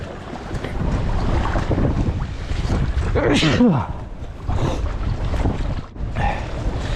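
Wind gusting and buffeting the microphone while paddling a light Advanced Elements Packlite inflatable kayak on open water in winter conditions, a steady loud rush with brief dips and a short tonal whistle midway, no speech.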